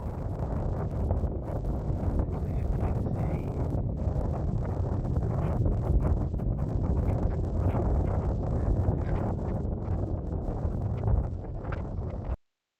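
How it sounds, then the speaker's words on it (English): Steady wind buffets the microphone for about twelve seconds in early morning Tokyo, a constant rough rumble with no pauses, ending abruptly. "Okay, so that was kind of windy that morning."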